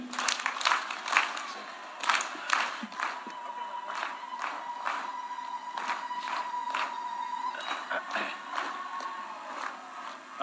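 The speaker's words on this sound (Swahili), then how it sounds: "Makofi." Crowd applause at an outdoor political rally in Kapsabet, Nandi, welcoming Kenya's President; scattered, uneven clapping and crowd noise rise and fall, with a sustained electronic tone running through the middle.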